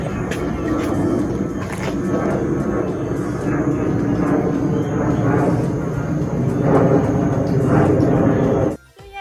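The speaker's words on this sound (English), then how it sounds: "There's an aircraft just flying right now." A fixed-wing aircraft passing overhead outdoors, a steady broad engine roar holding for several seconds before cutting off abruptly, with faint bird chirps scattered above it.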